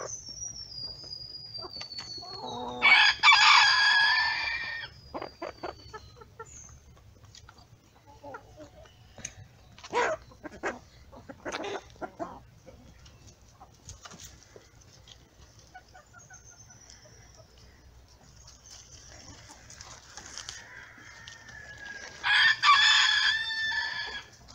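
A rooster crows loudly twice, near the start and again near the end, with scattered clucks from free-range hens, including a white Brahma, in between over a quiet background.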